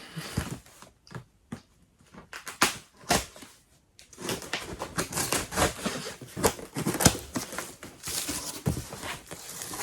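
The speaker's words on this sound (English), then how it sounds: "let me summon the Sacred Blade. There we go. You cut this sucker open." Blade slicing open a cardboard shipping box holding a Lemax Spooky Town 2022 holiday village building: close, crackly scraping and tearing with sharp irregular snaps, sparse at first and then denser and continuous.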